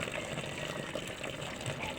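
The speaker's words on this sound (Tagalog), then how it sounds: "lalagyan po lamang natin ng tubig para lumutang siya" Water is poured steadily into a container to float azolla fern, a continuous close gushing splash with no clear break for two seconds.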